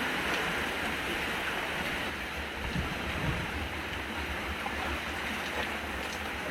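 Heavy rain pours down with wind in a village, a dense, steady roar of downpour close by, unbroken for several seconds with no voices.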